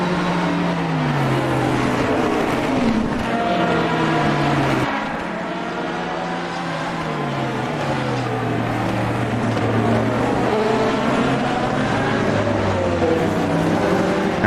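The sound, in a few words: race cars passing in a racing video game (Fuji endurance race)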